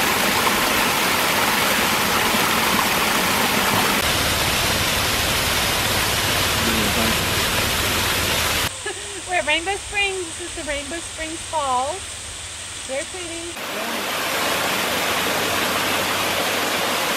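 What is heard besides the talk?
waterfall at Rainbow Springs State Park, Florida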